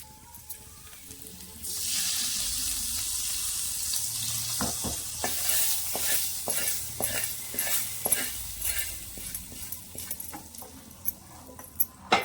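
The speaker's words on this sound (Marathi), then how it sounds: "हा तडका आपल्याला घालायचा आहे भाजीवर" Hot tempering (tadka) hits Mumbai-style pav bhaji with a sudden loud sizzle, then a steady crackling hiss with scattered sharp spits and pops, close and continuous.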